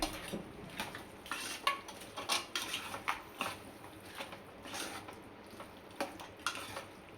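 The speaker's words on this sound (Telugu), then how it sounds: "చేప ముక్కలు వేసుకొని అటు ఇటు పెట్టుకొని" Dried fish pieces go into a pot of tomato curry and get stirred around, giving repeated light clinks and scrapes of a utensil against the pot in an irregular rhythm, close and moderately quiet with no talking.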